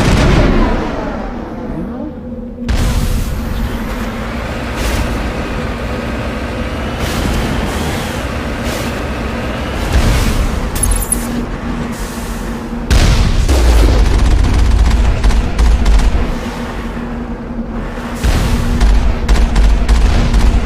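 Assault rifle gunfire in the Mass Effect video game: loud, repeated bursts of sharp shots with heavy booming impacts, firing on and off throughout over a constant low rumble of combat.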